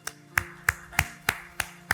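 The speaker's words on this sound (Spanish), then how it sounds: "Denle un fuerte aplauso al Señor." A few separate claps in a church congregation at the close of a service, spaced steadily about every third of a second, close and fairly quiet, with a low hum underneath.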